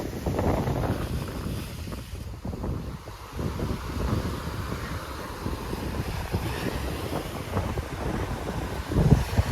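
Strong wind at the Porbandar seashore buffets the microphone in continuous rumbling gusts, with a broad roar like surf and open air behind it.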